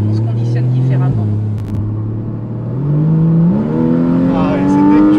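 Porsche Cayman S accelerating hard on kick-down, loud engine drone dropping briefly at a gear change then climbing steadily in pitch as revs build, with cabin rumble and a faint voice over it.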